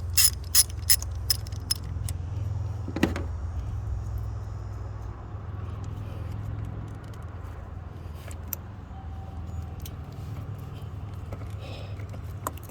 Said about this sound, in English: So now I need to loosen this cable. Well, or at least release the bolt.